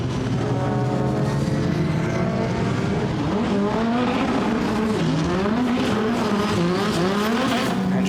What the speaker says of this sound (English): Carl likes to drive sideways.